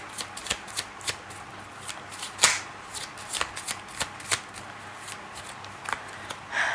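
Oracle cards being shuffled for a card reading: a steady run of soft, close flicks and riffles with brief papery snaps, with no voice over them.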